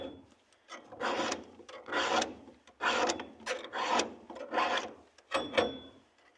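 A hand file rasps across the teeth of a chainsaw chain during sharpening, with about eight steady back-and-forth strokes in an even rhythm, close up and fairly quiet, with no voices.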